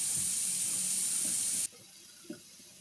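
Kitchen tap running into a sink, a loud steady broadband hiss that cuts off abruptly after about a second and a half, leaving quiet room tone with a faint knock.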